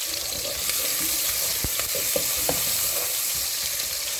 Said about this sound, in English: Here is my onion. You have to fry the onion